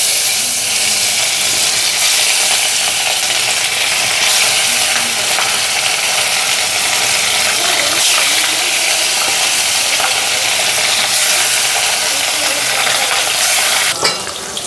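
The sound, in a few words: water splashing into hot oil, sputtering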